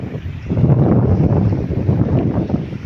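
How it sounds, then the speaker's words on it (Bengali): Strong wind blows beside the river at Kerani hill in Rangamati, producing a heavy, rumbling roar with gusty buffeting close to the microphone throughout. "আজকে যে বাতাস মারতেছে এদিকে কেরানি পাহাড়ে"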